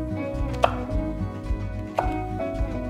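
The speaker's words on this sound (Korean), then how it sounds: "그 다음에 고추도 채 썰게요." A knife julienning chili peppers on a cutting board gives a quick, steady run of close, crisp chopping taps, with a couple of sharper knocks standing out; no talking.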